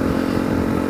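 A Honda CRF250L motorcycle engine runs close and loud with a steady, throbbing low-pitched drone for about a second, with no voices.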